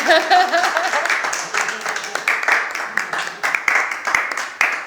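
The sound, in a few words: audience applause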